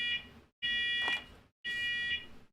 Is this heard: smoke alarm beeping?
yes